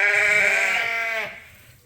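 A single Shetland sheep among replacement ewes gives one loud, close, wavering bleat lasting over a second before trailing off into quiet.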